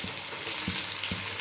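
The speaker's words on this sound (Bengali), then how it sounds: "এগুলো আমি শ্যালো ফ্রাই করে নিচ্ছি" Pieces of dhoka, lentil cakes made without chana dal, are shallow fried in oil. A dense, continuous sizzle runs throughout, with a few soft, dull bumps from the pan.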